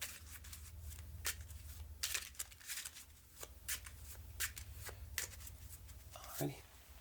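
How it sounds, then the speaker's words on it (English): A regular deck of playing cards being shuffled by hand in a quiet ASMR card-magic setting, a series of soft crisp riffles and taps at close range. "give it a little shuffle"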